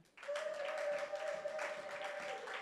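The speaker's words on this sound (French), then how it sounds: "Est-ce qu'on peut acclamer le Seigneur?" A church congregation applauding to acclaim the Lord, sustained clapping from many hands with a steady held tone ringing through it.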